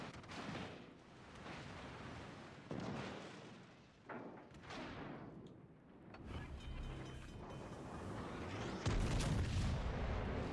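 Naval gunfire in World of Warships Legends, a Tier 8 battleship match: dense, rumbling volleys of booming shots and explosions roll continuously, with a heavier blast near the end and no talk.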